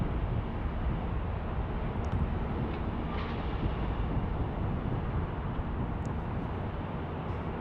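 A Southwest Airlines Boeing 737-800 arriving at Denver International Airport makes a faint, distant and steady engine rumble with no clear peaks.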